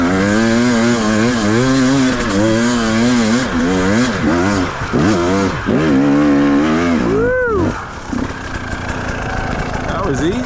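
A 2017 KTM 300 two-stroke dirt bike with a Powercore 2 silencer and V-force reed valve revs hard and close, its raspy engine note rising and falling in repeated throttle blips before dropping away, with voices faint underneath.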